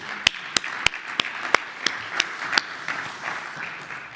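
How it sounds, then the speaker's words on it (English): Sparse, sharp handclaps at a conference main stage, about a dozen distinct claps in an uneven rhythm, fairly close and thinning out toward the end rather than building into full applause. "So please give him a thundering round of applause."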